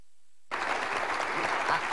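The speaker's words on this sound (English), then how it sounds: "let's give Congressman a round of applause." Applause from an audience starts abruptly after a moment of silence and continues as a steady burst of clapping.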